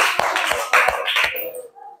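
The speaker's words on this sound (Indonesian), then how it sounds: "Luar biasa, tepuk tangan." A class of students claps in a classroom, a short burst of scattered applause lasting under two seconds before fading into quiet.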